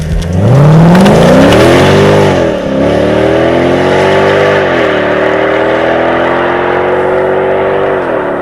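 Mercedes SLK55 AMG with a 5.4-litre engine revving loud and close, climbing sharply at first, then settling into a sustained drone with several dips and rises in pitch as the car drives through gear changes.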